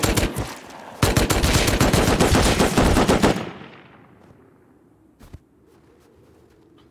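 Automatic gunfire in the survival game Rust, a rapid loud burst of shots for about three seconds that cuts off abruptly and rings out into quiet, followed by a single faint click later; no speech.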